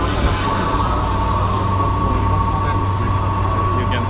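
Crowded Tokyo commuter train, a steady loud rumble and hum of the carriage in motion heard from inside, with a constant tone and no clear talk.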